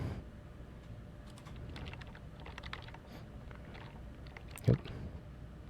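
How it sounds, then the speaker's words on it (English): Steady typing on a computer keyboard during a live Unreal Engine training session, a quiet run of soft key clicks with one louder tap near the end, no talking over it. "I think I'm typing too many numbers"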